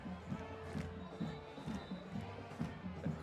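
A crowd in the stands at a high school football game between Vineland and ACIT, with a steady distant murmur and rhythmic claps or stomps repeating about twice per second, the sound loose and far off.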